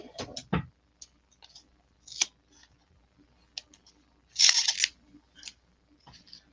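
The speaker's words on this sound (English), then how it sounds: "Grab my foam tape and cut myself a little piece." Scissors snip a piece of foam tape for a papercraft embossing project, making a few short, sharp cuts and clicks spaced irregularly, close and quiet with no talking.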